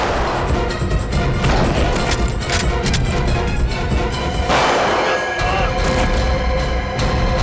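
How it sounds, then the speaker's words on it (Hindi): Loud, chaotic burst of gunfire and crashing impacts, dense and continuous with sharp cracks standing out over rumbling noise. "बच्ची पे गोली चलाता है।"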